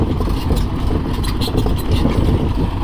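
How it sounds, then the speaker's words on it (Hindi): A farm tractor engine runs steadily with a cart (buggi) hitched behind, a continuous loud low rumble with no pauses and no talk over it. "सुबह सुबह अपना ट्रैक्टर लेके चल दिए, इसके पीछे बुग्गी जोड़ रखी है"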